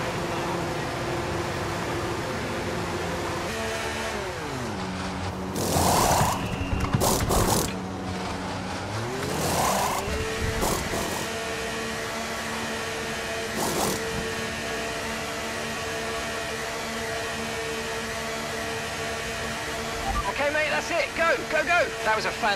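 Ferrari pit stop in F1 23 at the Portugal Grand Prix: engine pitch drops as the car slows, pneumatic wheel guns whir in short bursts, then the engine revs away, with talk over much of it.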